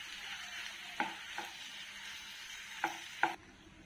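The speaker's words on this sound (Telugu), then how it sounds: "ఇప్పుడు పాస్తా వేస్తున్నాను దీన్నంతా బాగా కలుపుతున్నాం" Vegetable pasta being stirred in a pan: a steady soft sizzle with four sharp scraping clicks of the spoon against the pan, then the sizzle cuts off near the end.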